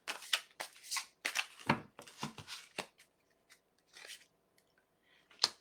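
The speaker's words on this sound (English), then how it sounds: "Let me shuffle again" Close, crisp bursts of cards being riffled and shuffled, several quick flurries with short pauses between them, then a couple of isolated snaps near the end.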